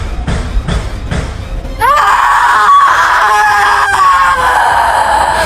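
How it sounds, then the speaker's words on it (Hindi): Ghostly creature in a Hindi cartoon story letting out a shrill, wailing scream that rises and wavers for several seconds after a few low breathy moans, loud and without speech. "छलावा ने चीख मारी और अगले ही पल धुएं की तरह गायब हो गया।"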